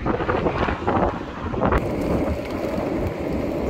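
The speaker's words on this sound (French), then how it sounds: "à cet endroit-là, il y a énormément de vent." Strong wind on a bridge over the Rhône roars steadily and loudly, buffeting the microphone with heavy low rumble throughout, no talking heard.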